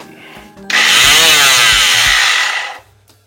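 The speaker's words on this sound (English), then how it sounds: "A palm sander. This one I probably use the most." A handheld palm sander whirs loudly and steadily for about two seconds, starting abruptly and cutting off just as suddenly, with a harsh, buzzing motor tone close to the listener.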